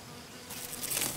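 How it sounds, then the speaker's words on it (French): A forager honeybee leaving its hive, buzzing faintly at first and then swelling louder and closer in a short burst of wingbeat drone. "Une abeille butineuse qui sort de sa ruche remplit plusieurs fonctions pour sa colonie"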